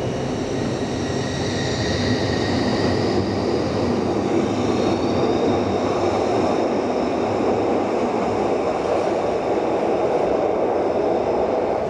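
A third-generation Glasgow Subway train on the narrow 4-foot-gauge underground line runs with a steady, loud, continuous roar and rumble, plus a faint high whine.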